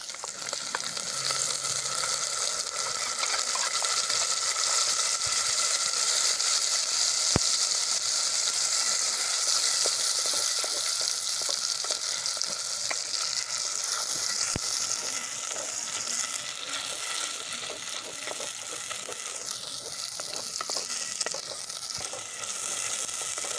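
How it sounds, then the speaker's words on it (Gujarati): Ginger garlic paste sautés in a pan for a cashew curry, a loud, steady frying sizzle that runs without a break, with occasional small clicks and no speech. "આપણે આદુ લસણની પેસ્ટ સંતળાઈ જાય છે"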